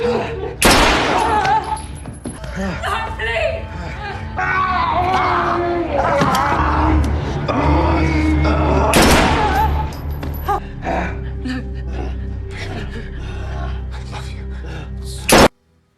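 Gunfire in the film Hotel Mumbai, set during the terrorist attack on the Taj Mahal Hotel, comes as loud bursts and a rapid volley mixed with frightened voices, gasps and crowd chatter, alongside tense dialogue and score.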